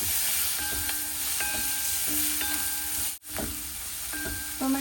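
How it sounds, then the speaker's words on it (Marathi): Finely chopped tomato sautéing in a pan for a snake gourd curry, a continuous close hiss of frying with faint clinks of a spoon, one brief dropout near the end, no voices. "टोमॅटो सुद्धा आपण छान परतून घेऊया"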